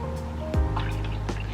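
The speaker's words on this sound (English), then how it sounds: "So soy sauce. You will add a little bit of water." Small amount of water poured into soy sauce in a home kitchen, a faint brief trickle and a couple of soft drips against a low steady background hum.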